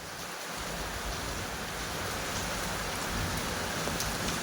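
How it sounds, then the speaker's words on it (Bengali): Heavy monsoon rain pours down at dawn, a dense, steady hiss of drops drumming on surfaces, loud and unbroken throughout, with no voices. "কি অজস্র বৃষ্টি হচ্ছে"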